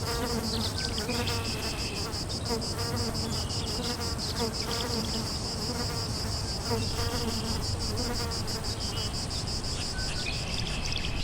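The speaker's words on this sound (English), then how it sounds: "a swarm of scavenging gnats flies in to try and take what they can" A swarm of scavenging gnats hovers around a European hornet outdoors, a dense, steady high-pitched buzz and whine of many wings that holds at a constant level throughout, close and continuous with no pauses.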